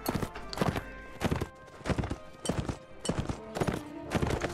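Horse hooves from riding in the video game Mount and Blade, a loud, close, steady galloping beat of repeated hoof strikes in regular groups, with no voices over it.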